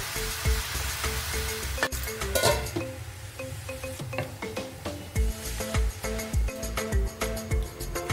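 Spice paste sizzling in a hot pan for ash gourd curry, a steady crackling fry with frequent clinks and scrapes of stirring throughout, close and fairly loud with no voice.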